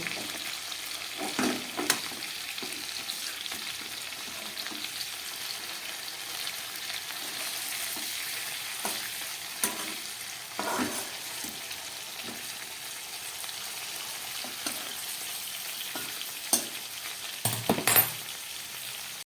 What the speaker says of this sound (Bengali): মাছগুলো ভাজা হয়ে গেছে, আমি এবার তুলে নিচ্ছি